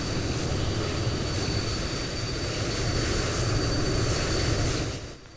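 Jet aircraft engine running on the ground in Microsoft Flight Simulator 2020, a loud, steady broadband roar with a thin high whine, holding constant before tapering off at the end.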